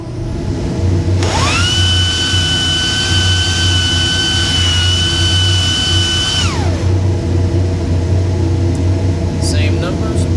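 A dust collector fitted with an upgraded Wynn filter runs with a loud, steady airy roar and low hum, and a whistling tone rises, holds for several seconds and then drops away.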